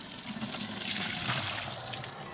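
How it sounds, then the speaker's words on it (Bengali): Water spilling out and pouring continuously, a steady close gushing splash with no break, fairly faint overall. "পানি সব পড়ে গেল।"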